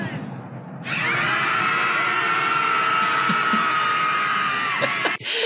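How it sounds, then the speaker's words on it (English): A crowd screams together at a scream therapy gathering in San Francisco marking Inauguration Day, a loud sustained chorus of many voices holding for over four seconds after a short countdown lull, then cutting off abruptly. "Those are people screaming because they just could not handle the idea of Inauguration Day, Katie."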